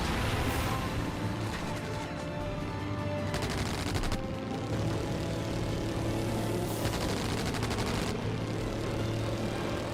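Rapid cannon fire from World War I era fighter planes in the Wings of War flight game, sustained bursts loud over a steady droning engine, with brief gaps between volleys.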